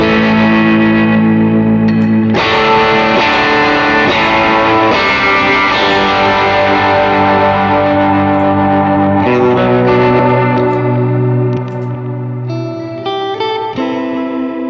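Electric guitar played through a King of Tone overdrive pedal, its red side pushed hot, in stereo: sustained, saturated chords and ringing notes, loud and continuous, with a brief softer passage near the end and no talking.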